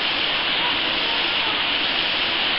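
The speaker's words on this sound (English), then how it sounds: "did you see the waterfall down there?" A waterfall beside a river gives a steady, loud rushing roar of falling water that holds unbroken throughout.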